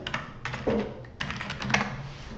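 Typing on a computer keyboard: a quick, close run of crisp key clicks in small clusters over a couple of seconds, with no talking.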